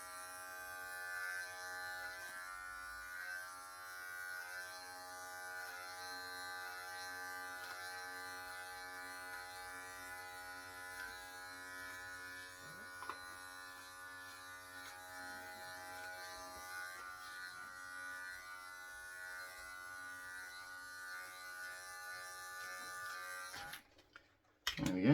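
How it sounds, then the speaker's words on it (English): Cordless hair clippers buzz steadily while cutting dry hair on the sides and back of the head, a close, continuous electric hum with faint shifts as they pass through hair, ending with a few handling clunks. "it's actually easier, I think, to cut the hair when it's dry, when you're doing a clipper cut"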